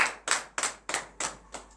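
A congregation at a morning prayer service claps in acclamation, six loud, evenly spaced unison claps with no voices over them.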